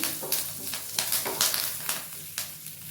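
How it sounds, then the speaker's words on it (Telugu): Curry leaves, garlic and tamarind frying in a pan, with soft sizzling broken by repeated scraping stir strokes at an uneven rhythm, close and fairly quiet, no talking. "కరివేపాకు, తెల్లగడ్డలు, చింతపండు బాగా ఫ్రై చేసేసుకోవాలి."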